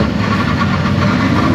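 A Ford Super Duty pickup truck engine idles steadily up close at a motor show, a deep continuous rumble with no voices over it.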